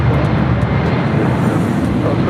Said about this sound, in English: we have a 767 cargo now rolling down